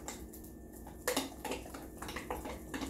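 A spoon clinks and scrapes against a bowl while buttermilk cornbread batter is stirred, with irregular close knocks and scraping strokes at a moderate level and no talk.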